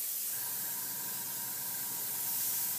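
An airbrush spraying paint gives a steady, close, airy hiss that holds evenly throughout with no breaks or talk.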